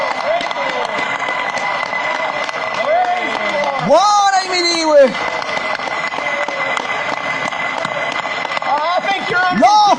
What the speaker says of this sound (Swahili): Hebu tumpigie Bwana makofi mengi usiku wa leo.